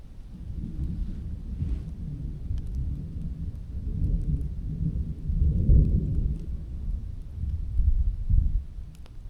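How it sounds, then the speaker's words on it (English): Thunder from a storm over a mountain ridge on Borah Peak, low rolling rumbles swelling and fading over several seconds with wind buffeting the microphone, no voices. "I don't know if that storm is leaving or not"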